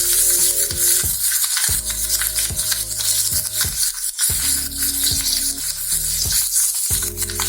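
Cumin seeds and green chilies sizzle in hot oil for a tapioca sabudana khichdi, a loud, continuous crackling fry broken by repeated tonal harmonic bursts and brief drops, with no voices.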